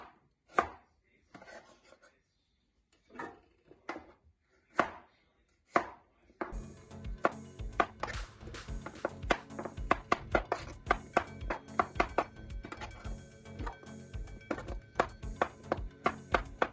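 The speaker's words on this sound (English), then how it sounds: "I'm gonna chop them into small pieces." Knife chopping otaheite apples on a board: a few scattered cuts at first, then a fast steady run of crisp close chops.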